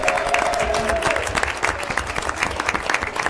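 A crowd at a school board of education meeting applauds with dense, continuous clapping. Faint murmurs can be heard in the room.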